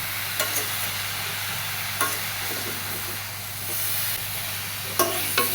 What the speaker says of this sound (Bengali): কুমড়ো চাষের শাকগুলো অল্প অল্প করে দেবো আর একটু একটু করে নাড়াবো